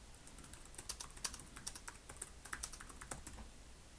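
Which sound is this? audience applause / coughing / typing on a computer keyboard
typing on a computer keyboard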